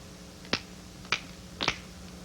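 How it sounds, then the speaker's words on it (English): Three crisp finger snaps ring out in a quiet room, evenly spaced about half a second apart, the last one a quick double snap, each sharp and close against a low steady hum. "A child his age ought to turn his head toward the sound of my voice or respond to my snapping my fingers"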